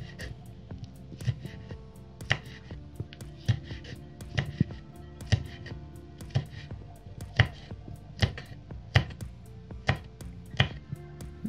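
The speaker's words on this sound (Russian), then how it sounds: "Теперь будем нарезать перец чили." A knife slices a chili pepper into rings on a cutting board, giving about a dozen crisp, evenly spaced chops close up, with no talking.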